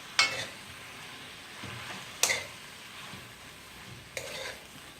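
A spatula stirs veg chow mein in a hot pan over a quiet sizzle, with three distinct scraping clanks spaced about two seconds apart, close and unaccompanied by talk.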